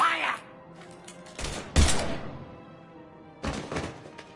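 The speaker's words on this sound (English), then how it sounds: "Now open fire!" Gunfire in the video game Mass Effect 3 comes as a few loud, separate bursts of shots and thuds spaced across the clip, with quieter gaps between them.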